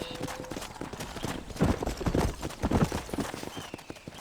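Horse hooves clip-clop in Red Dead Redemption as a horse moves along, a series of uneven nearby hoof strikes over a low ambient backdrop.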